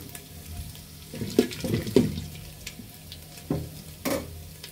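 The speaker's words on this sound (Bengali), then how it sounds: "নাড়তেই থাকবেন।" Ginger and whole spices for khichuri being stirred in a hot pan: a close sizzle under bursts of scraping from the spoon, several uneven strokes spread across a few seconds.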